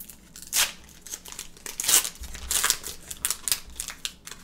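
A Pokemon card booster pack being torn open by hand, with close crinkling foil and short ripping bursts spread across a few seconds, fairly quiet and without talk.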